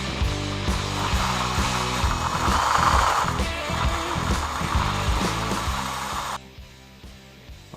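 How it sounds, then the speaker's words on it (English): A brake caliper bore being honed out with a power drill, a loud continuous grinding whir with rhythmic scraping pulses, close up and steady, then dropping to a quieter spin near the end. "the easiest solution was simply to hone out the caliper bore as I'm doing here right now"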